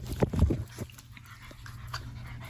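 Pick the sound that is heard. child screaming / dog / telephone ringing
dog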